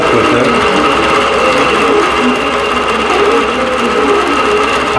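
A long-arm quilting machine stitches an edge-to-edge pattern into a quilt on a frame, its steady rapid needle chatter and motor hum running loud and continuous throughout, with no pause.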